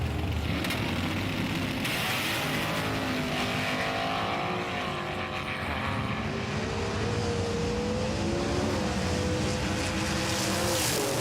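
Cadillac race car in a Road Warriors Season 3 racing battle, a steady loud engine drone with rising and falling pitch sweeps as the car accelerates and shifts, continuous for the whole stretch.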